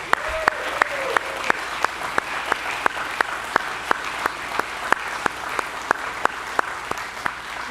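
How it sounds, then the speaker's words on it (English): An audience at a barbershop quartet contest applauds, with sharp, regular claps ringing out over a steady wash of clapping throughout. "Let's give them all a round of applause."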